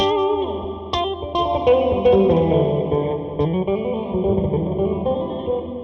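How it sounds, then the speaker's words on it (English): Electric guitar run through a Donner Pocket Go effects unit with a wah-like filter and heavy reverb, notes sweeping and ringing into a washy, echoing tail, played loud and alone. "It almost has like a cocked wah sound to it with a bunch of reverb."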